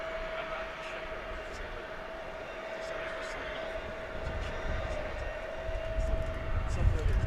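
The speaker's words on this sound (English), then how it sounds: "that was American Flight 36 going to Madrid in Spain. 777-200." An American Airlines Boeing 777-200 jet at DFW airport gives a steady, distant engine roar with a thin whine, building slowly into a heavier low rumble, while a voice talks faintly underneath.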